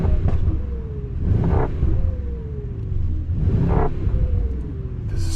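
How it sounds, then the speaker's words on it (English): Mercedes S63 AMG E-Performance V8 in Sport Plus mode, heard from inside the car as a deep rumbling engine note that swells with repeated throttle surges, steady and fairly loud with no talking. "We have the car set into Sport Plus. It's just the V8 sound."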